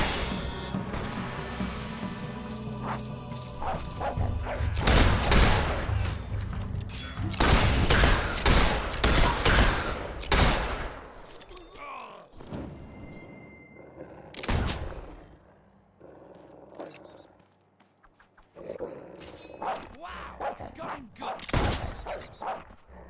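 Gunfire in the Fable 3 video game bursts out in rapid volleys of sharp cracks, dense at first and then thinning to scattered loud shots, with game sounds around them.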